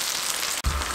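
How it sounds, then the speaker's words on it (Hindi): Fish slices deep frying in hot oil in a kadai give a steady, close sizzle with a brief break, then a louder bubbling surge. "क्योंकि हम डीप फ्राई कर रहे हैं"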